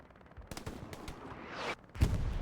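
Gunfire in the WWII shooter Hell Let Loose during a competitive match at Stalingrad: scattered single shots and short bursts at moderate distance, with a heavier crack near the end over a busy battlefield backdrop.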